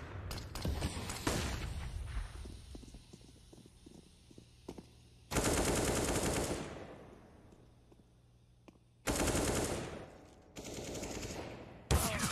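AK rifle fire in a professional Counter-Strike: Global Offensive match at IEM Fall. Several loud, close bursts of rapid automatic shots are separated by quieter stretches of lighter in-game sounds.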